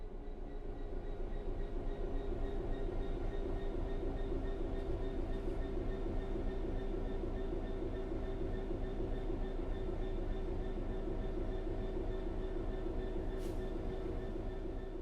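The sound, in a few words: train coasting on level ground in a train simulator video game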